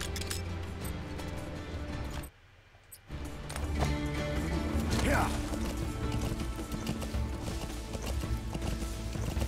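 A horse gallops with rhythmic clip-clop hoofbeats in the video game Metal Gear Solid V, with game sound effects and someone talking over it, interrupted by a short silent gap.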